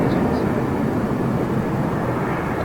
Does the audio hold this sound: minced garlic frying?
no